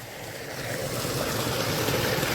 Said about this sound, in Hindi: पानी चल रहा है और देखो यहाँ कितना बढ़िया उजाला हो गया है